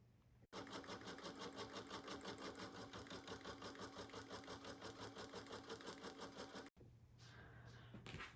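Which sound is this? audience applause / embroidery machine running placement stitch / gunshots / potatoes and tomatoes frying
embroidery machine running placement stitch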